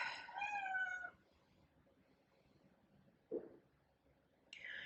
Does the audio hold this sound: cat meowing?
yes